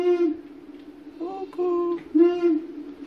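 Recorded animal-call sound at a national park exhibit, an owl call played back with clear tonal, harmonic hoots in three drawn-out phrases, loud and close, with no talk over it.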